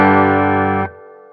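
Squier Affinity Series Jazzmaster electric guitar on the bridge pickup through an amp channel with distortion at maximum: one thick, buzzing sustained chord rings loud and steady, then is abruptly choked, leaving a faint humming tail.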